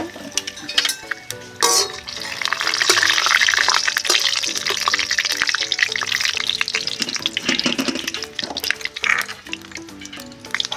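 Panch phoron, cardamom and bay leaf hit hot oil and crackle into a loud, steady sizzle with sharp spitting pops, kept up close and continuous for the whole stretch.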